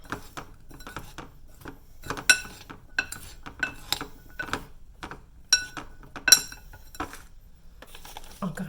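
Flour and powder being mixed by hand in a bowl for a Vietnamese three-colour dessert: quick, irregular scrapes and light clinks of a utensil against the bowl, close and fairly quiet.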